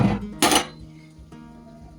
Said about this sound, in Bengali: কড়াইটা মেজে রাখবো না আবার আমার কড়াইটা কালি কালি হয়ে যাবে